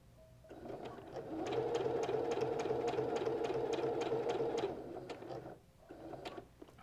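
An embroidery machine stitches a cork coaster, overlapping a few stitches. Its rapid, steady needle chatter runs for about four seconds at moderate volume, stops briefly, then resumes for a short burst.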